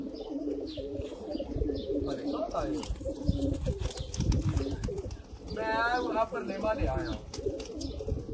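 A Sialkoti pigeon coos nearby in repeated throaty rolling calls, with people talking over and between the coos.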